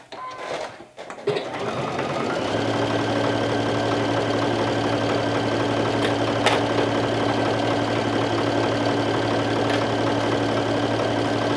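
A sewing machine runs a straight stitch on a garment bodice panel, a steady loud mechanical whirring hum that starts after a brief fumble and continues unbroken, alone without talk.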